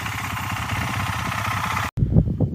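A CCM GP450 motorcycle engine running after a jump start, a loud steady single-cylinder thrum near the microphone that cuts out abruptly near the end, followed by brief rustling.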